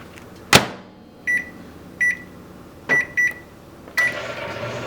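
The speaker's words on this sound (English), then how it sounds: "So I'm gonna throw this in the microwave for a minute." A household microwave oven starts with a sharp click and a string of short, bright keypad beeps, then settles into a steady running hum in the last second.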